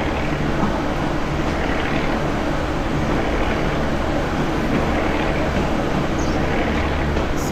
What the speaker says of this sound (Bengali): আমাদের সামনে আছে পাওয়ার কার, যার কারণে খুব শব্দ হচ্ছে।